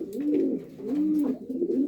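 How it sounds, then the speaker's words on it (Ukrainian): Pigeons in a village loft coo in soft, repeated low throaty calls, several overlapping phrases close by with no talking. "Ось таке гул, гудять, паруються, перепаровуються."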